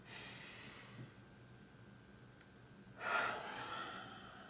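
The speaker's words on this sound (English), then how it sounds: "So breathe in." A slow, deep breath drawn in through the nose during a breathing exercise, a soft airy inhale that swells into a louder rushing snort near the end, close to the mic with no talking.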